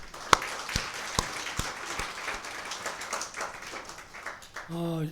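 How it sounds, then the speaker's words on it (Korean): Church congregation clapping in celebration and welcome, starting with a few sharp, separate claps and settling into soft scattered applause, with a voice rising at the end. "우리 스스로에게 또 우리 교회 전체에게 우리 축하하고 환영하는 박수."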